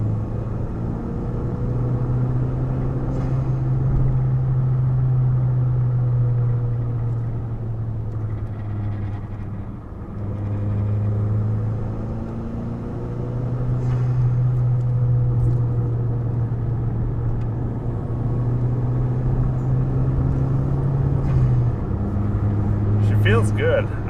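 Engine of a 2014 Chevy Cruze Eco with a Stage 2 tune, droning steadily from inside the cabin while driving, rising and falling through gear changes, loud and continuous with a person talking over it.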